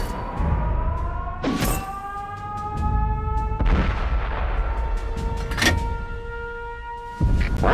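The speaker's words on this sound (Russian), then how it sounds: "Выстрел." Tank cannon fire in World of Tanks, several heavy booming shots spaced a second or two apart, each followed by a ringing metallic tone, loud and close against a constant engine rumble.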